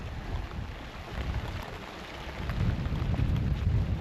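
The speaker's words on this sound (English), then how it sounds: "There's still raining cats and dogs out here." Heavy rain drums steadily, a dense broadband patter with low rumbling underneath, fairly close and continuous throughout.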